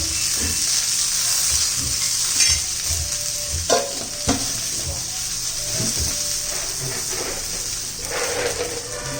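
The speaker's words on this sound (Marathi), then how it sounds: "थोडंसं तेल घालूया त्याच्यामध्ये आपण जिरं घालायचे" Cumin seeds crackle and sizzle steadily in hot oil in a pan after roasted chillies for Kolhapuri thecha, a bright continuous frying hiss with occasional pops and stirring clinks.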